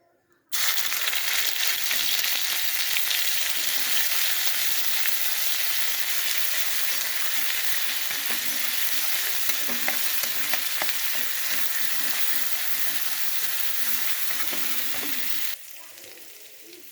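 Ginger garlic paste hits hot oil in a kadai for a mutton spleen fry, bursting into a loud, dense, unbroken sizzle that holds steady and then cuts off abruptly.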